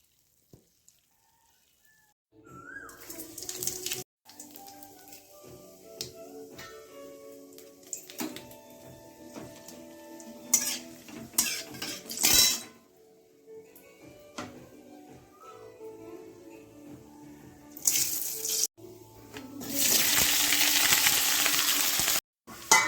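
Onions cook in a pan with a steady sizzle and occasional stirring clatter, rising to a louder, fuller frying hiss near the end.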